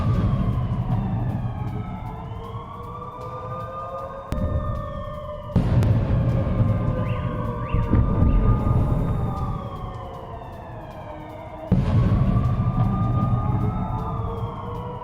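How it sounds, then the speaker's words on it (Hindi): Air raid sirens wail in long rising and falling tones over a low rumbling background, sounding during a Ukrainian attack on Russia at night, with abrupt shifts in loudness and no talking. "एयर रेड सायरन भी बजते हुए दिखाई दे रहे हैं"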